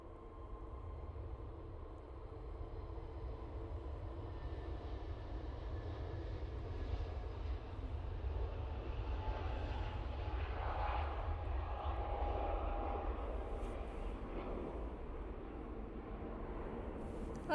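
An airliner takes off at Manchester Airport, its jet roar building and holding as a broad, steady rumble that swells and then slowly eases, heard from a distance.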